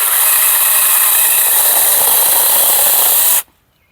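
A Zeeksaw mini chainsaw cuts through a half-inch branch, a loud steady high-pitched whine that holds evenly for a few seconds and then stops abruptly.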